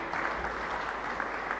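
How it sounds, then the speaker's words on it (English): An audience at a CFA Institute panel event claps in steady, dense applause for the panel, a short burst heard alone. "A round of applause to my panel."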